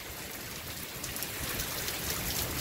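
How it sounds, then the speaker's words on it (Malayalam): Heavy rain during a South Florida flood watch, a dense, continuous hiss of drops striking surfaces, steady and enveloping with a slight rise in intensity toward the end. "നല്ല തണുപ്പ് നല്ല മഴ നല്ല കാറ്റും അടിപൊളി."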